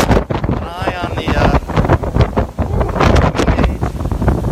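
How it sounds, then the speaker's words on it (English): Strong winter-storm wind gust buffeting the microphone at Wachusett Reservoir, a loud continuous roar with surging bursts throughout, nearly 50 mph, with water movement beneath. "we registered just shy of a 50-mile-an-hour wind gust. I'm guessing this is pushing that right now."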